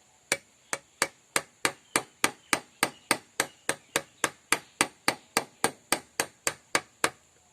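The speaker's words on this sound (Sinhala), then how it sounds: "අපි එක ඇණයක් ගහගත්තා මේ විදිහට" Hammer striking a nail into a coconut-shell spoon, about twenty-two sharp, close, even blows in a steady rhythm of roughly three per second, with no voices over them.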